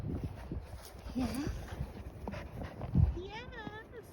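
A puppy pants and gives a few soft whimpers outdoors in the snow during a Toronto snowstorm, close and fairly quiet, with a voice briefly heard.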